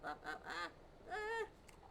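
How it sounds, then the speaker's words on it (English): A duck on a farm quacks nearby, first in a quick run of three nasal calls and then in one longer, drawn-out quack, all over a steady low background hum. "Good morning, Vocal Duck"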